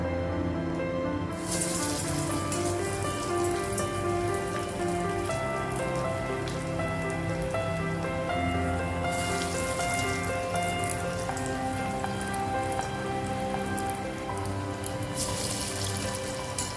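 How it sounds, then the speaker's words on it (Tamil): Steady, dense sizzling and crackling of drumstick-leaf (murungai keerai) vada frying in hot oil, continuous and close throughout. "வடை போட்டுடலாம்"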